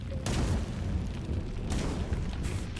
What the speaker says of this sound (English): Just run away from the explosions, it's fine.